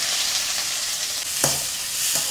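Sliced onions fry in oil with a steady, close sizzle, broken by a sharp scrape of stirring partway through; no one speaks.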